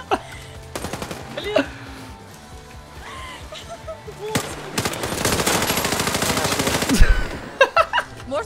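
Automatic gunfire in the online shooter Warface, bursts of rapid shots loud and close, dense sustained firing in the middle, with a person speaking between bursts.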